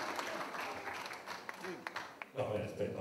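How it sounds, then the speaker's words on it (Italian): Audience applause at a tribute event in Manziana for Gianni Nazzaro, with a broad wash of clapping mixed with voices and crowd noise, swelling louder toward the end. "E un applauso a Nevola"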